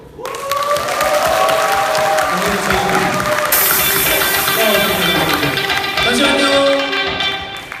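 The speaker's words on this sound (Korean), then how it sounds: "그때마다 큰 박수와 환호 부탁드립니다" Audience at a dance performance event claps and cheers loudly, a dense sustained wash of applause with whoops and musical tones underneath, continuing for the whole stretch.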